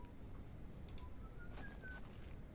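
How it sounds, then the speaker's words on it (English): A faint, thin whistled melody of a few rising notes drifts through the woodland scene in the video game The Excavation of Hob's Barrow, soft over a low ambient hum. "And oh, I hear the whistling."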